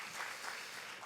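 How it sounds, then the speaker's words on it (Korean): Audience applause for a mother who has just read aloud at a citizens' dialogue session of a city council, a steady wash of clapping from a crowd that runs unbroken through the whole moment. "마지막에 읽어주신 우리 어머니에게 큰 박수 부탁드리겠습니다."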